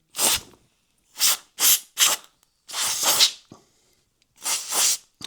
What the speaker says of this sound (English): Spray duster might be another idea.